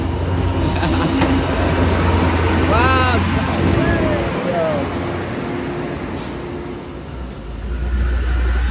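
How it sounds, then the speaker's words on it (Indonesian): A crude palm oil truck on a road near Subulussalam, Aceh, with a steady low engine rumble close by while someone speaks briefly over it. "Ini ada unit truk CPO."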